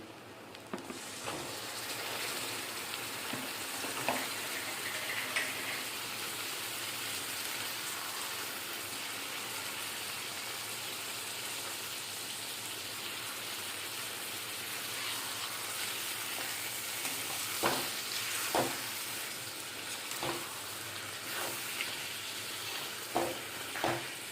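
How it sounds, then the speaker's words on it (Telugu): Goat tripe frying in a pan with ginger garlic paste and onions makes a steady, fairly quiet sizzle with occasional scraping stirs and sharp crackles. "ఇది ఈ పొట్ట కూడా ఇందులో వేసుకుని బాగా బ్రౌన్ కలర్ వచ్చే వరకు వేయించుకోవాలండి"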